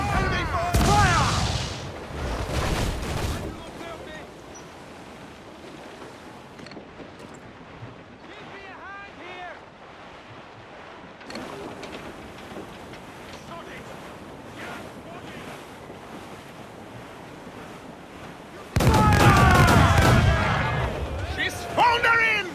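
Broadside cannon fire from sailing warships in Assassin's Creed IV: Black Flag, heavy booming blasts opening the scene and again near the end over constant ocean surf and wind.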